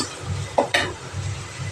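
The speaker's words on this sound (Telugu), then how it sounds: "ఇప్పుడు ఆనియన్, ఎల్లిపాయలు వేగినాయి చూడండి." Onions and garlic fry in a pan for kaara chutney, with a soft continuous sizzle under two sharp scraping stirs of a spoon against the pan near the middle.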